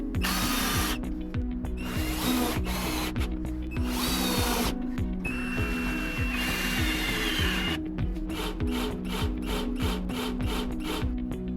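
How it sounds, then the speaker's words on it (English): A power drill drives screws through L brackets to fix a workbench table surface, with repeated short whirring bursts, ratcheting clicks and brief pauses between them, loud and close with no talking. "Next I secured the table surface with lots of L brackets."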